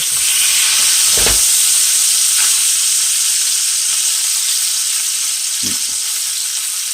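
Leg of lamb steaks frying in a pan give a loud, steady, close sizzle that runs unbroken, with a few soft knocks underneath and no voices.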